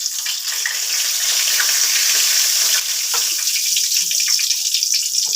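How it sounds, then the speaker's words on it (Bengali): Black cumin seeds hitting hot oil in a kadai, a bright hissing crackle that stays loud and steady from start to finish, close by with no talking. "কড়াতে একটু কালো জিরা দিয়ে দিচ্ছি।"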